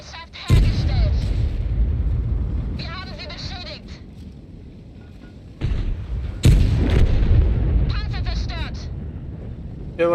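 Artillery fire in World of Tanks, heavy booming shots with loud broadband bursts at intervals, heard beneath someone talking over gameplay.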